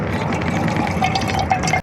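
Seawater draining out of an outboard motor's carburetor float chamber, a continuous close trickling and splashing pour that runs steadily and cuts off at the end.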